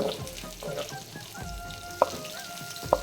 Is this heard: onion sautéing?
yes